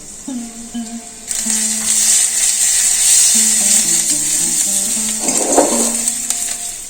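Whole cumin and asafoetida drop into hot ghee and set off a sudden, loud, steady sizzle that keeps going. A few clinks of a utensil against the pan come midway through.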